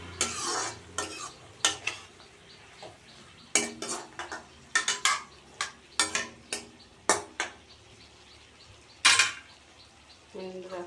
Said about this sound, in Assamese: কিছু সময়ৰ কাৰণে ঢাকনি লগাই দিম।